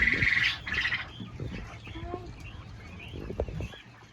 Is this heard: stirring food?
no